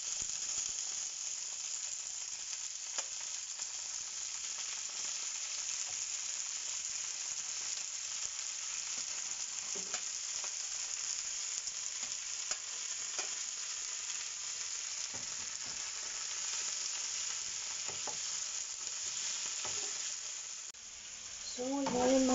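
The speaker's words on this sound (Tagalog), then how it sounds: "pipirituin din natin yung ating sitaw." String beans (sitaw) frying in a pan for beef kare-kare give off a steady, fairly loud sizzle that runs the whole time with small clinks of stirring. A brief voice comes in at the very end.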